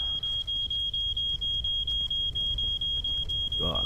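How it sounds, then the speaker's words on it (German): A smoke detector in the video game My Summer Car shrills with a steady, rapidly pulsing high beep while the house burns, a low rumble underneath. "Rauchmelder funktioniert wenigstens noch."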